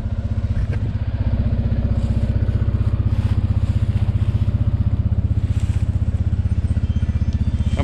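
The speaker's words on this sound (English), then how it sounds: "Turn a pump on" A Vevor fuel transfer pump runs steadily for several seconds, a loud, close, rapid motor hum and buzz with an even pulsing rhythm and faint clatter on top.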